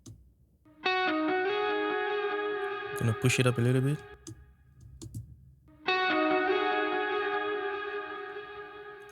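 Electric guitar chords ringing through a Soundtoys SuperPlate plate reverb set to about a three-second decay, two sustained strums with a lush tail, a brief burst of picking and a short spoken remark in between.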